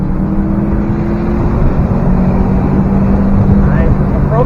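A 2013 Subaru Impreza WRX engine drones steadily on throttle at a speed expo, loud and continuous throughout, with a faint rising tone near the end and a voice talking over it.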